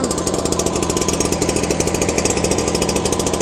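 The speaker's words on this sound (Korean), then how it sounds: "시동이 걸리면 1분 정도 공회전을 시켜주고 가속 레버를 올리고 방제 작업을 시작하면 됩니다." A Cifarelli L3EDA power sprayer engine idles just after starting, a loud, close, rapid and steady mechanical putter with a metallic rattle that never changes pace.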